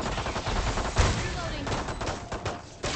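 Gunfire in the VALORANT video game cracks out in rapid bursts, loud and close, with a heavy shot about a second in, mixed with game effects and some talk.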